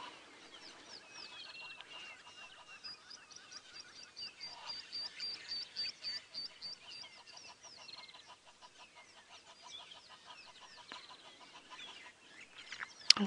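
Harsh, rapid honking and cackling calls from a nearby male Egyptian goose repeat in quick rhythmic bursts on a sunrise safari drive, with a few sharper squawks breaking through near the end.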